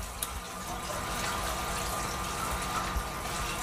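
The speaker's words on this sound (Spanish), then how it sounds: "para mí la cantidad de burbujas es bastante buena" An aquarium air pump bubbles water among rocks in a tank, giving a steady, close fizzing and gurgling hiss with a faint mechanical hum beneath.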